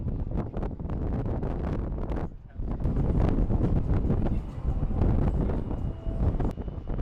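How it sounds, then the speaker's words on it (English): Strong wind buffets the microphone on the upper deck of a cruise ship sailing the Mediterranean off Greece. Loud, gusty rumbling roars nearly the whole time, with a brief lull partway through. "it's pretty windy up here"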